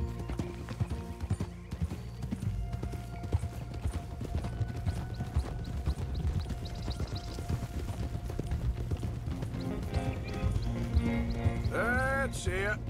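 Horse hooves clip-clop steadily in the Red Dead Redemption 2 game, joined by a whinny near the end, all under continuous background music and game ambience while a voice briefly murmurs.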